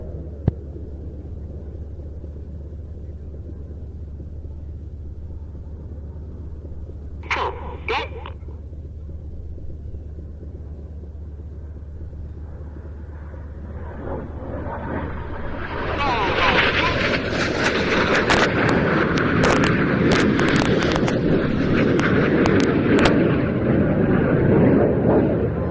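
Synchro pair display jets dive and pass at an airshow, a steady low rumble swelling into a loud, broad roar that lingers over the final seconds, with a brief sharp tone earlier.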